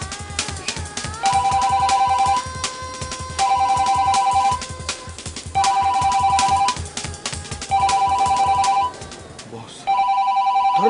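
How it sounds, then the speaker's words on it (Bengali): A telephone rings in bursts of about one second with short pauses between them, repeating five times. People talk in a room underneath the ringing. "ধরেন ধরেন ফোনটা ধরেন"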